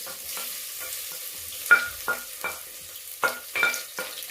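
Onions frying in a pan for ghee rice, a soft sizzle broken by a series of spaced spoon scrapes and stirs, with no voices.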